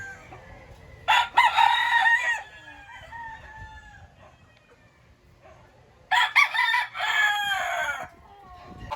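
Gamefowl roosters at a game farm crow in two loud, drawn-out calls separated by a few seconds of quieter background, each crow rising sharply and trailing off, nearby and with no talking.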